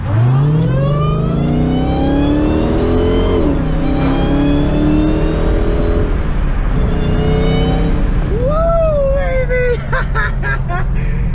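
A Dodge Challenger Hellcat engine revs hard through a first-gear pull with a K&N Typhoon cold air intake, its pitch climbing with a high intake whine on top, loud and close, with a voice briefly over it.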